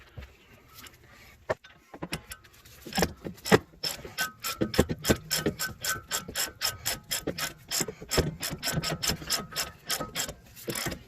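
Ratchet wrench tightening car sway bar links, a close run of rapid mechanical clicks in quick bursts that grow steady and rhythmic after a few scattered knocks, with no talking.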